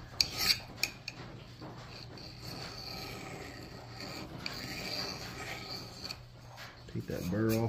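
A file or sharpening stone rasps against the edge of a Collins double bit axe to take off the burr, faint scraping strokes with a few sharper metallic clinks near the start and end.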